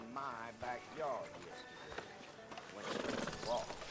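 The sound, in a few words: horse in Red Dead Redemption 2 video game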